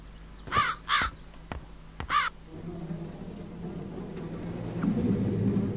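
A crow in the adventure game DSA Satinavs Ketten gives three or four loud, hoarse caws in quick succession, followed by a low rumbling ambience with no talk.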